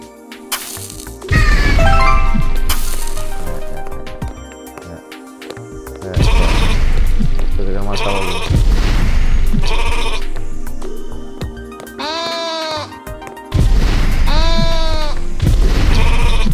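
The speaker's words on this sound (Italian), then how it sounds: "La pecora." Sheep bleating in the video game Rain on Your Parade, with several loud, wavering bleats in separate bursts, mixed with game music and thumping impacts.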